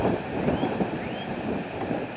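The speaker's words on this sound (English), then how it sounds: "It is windy." Wind blowing outdoors beside a chicken cage, steady broadband rushing and buffeting across the microphone with no other distinct sounds.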